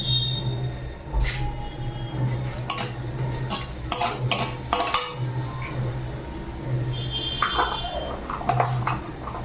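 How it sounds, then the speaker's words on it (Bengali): Two bay leaves, a dried red chili and whole cumin seeds crackle in hot oil for a Bengali chicken dish, with close sizzling and scattered pops mixed with clinks of a metal spoon against the pan. "এবার আমি এই তেলে কিন্তু দুটো তেজপাতা একটা শুকনো লঙ্কা ফাটিয়ে দিলাম আর দিয়ে দেবো গোটা জিরে"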